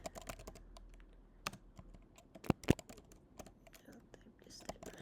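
Quiet typing on a computer keyboard while entering C# code: irregular soft key taps with a couple of sharper, louder clacks midway, close by, with faint breathy murmuring in the background.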